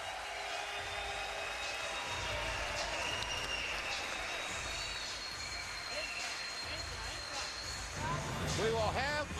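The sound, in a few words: boxing arena crowd on its feet applauding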